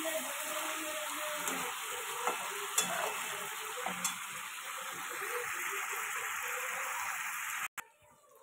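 Pabda fish cooking with spices in a pan sizzles softly and steadily, with a few faint stirring clicks, before it cuts off abruptly near the end.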